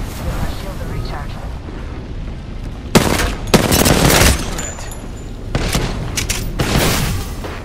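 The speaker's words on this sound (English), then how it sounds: "Throwing thermite grenade." A thermite grenade bursts into flame in the battle royale shooter Apex Legends over constant background game noise, with several loud, crackling flare-ups spaced a second or two apart.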